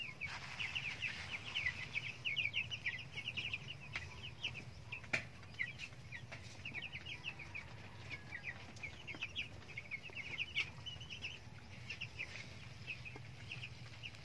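Sick chickens with colds and swollen eyes cluck softly and repeatedly in a steady, faint chatter over a low background hum, with no talking.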